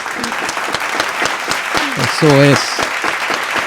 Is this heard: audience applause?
yes